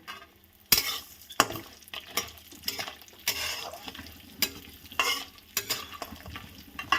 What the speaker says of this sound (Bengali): মুগের ডালটাও আমি ভেজে নেব একসাথে।